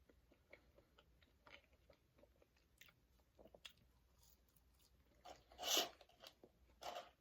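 McDonald's fries being chewed and eaten close up, soft intermittent crunches and bites with a couple of louder munches near the end, quiet between.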